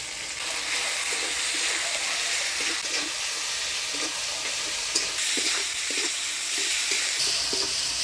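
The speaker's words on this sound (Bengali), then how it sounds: "মশলাটা ভালোভাবে কষিয়ে নিলাম" Ground spice paste with turmeric and salt fries in a pan, making a steady, fairly loud sizzle with light stirring clinks and scrapes, one sharper knock partway through.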